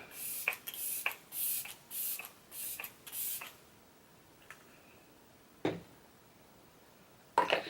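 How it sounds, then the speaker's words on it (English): Several short hissing bursts of Flower Beauty Seal the Deal setting spray sprayed onto a face in a quick series, close to the mic, followed by a few scattered clicks and taps. "spray my face one more time with the Flower Beauty Seal the Deal setting spray"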